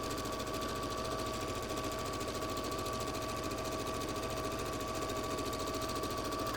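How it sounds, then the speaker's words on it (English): A sewing machine chain-pieces quilt blocks for a cotton candy pinwheels quilt, stitching in a fast, steady, unbroken whir at low volume, with a faint whine underneath and no talking. "So I'm going to chain piece these as well."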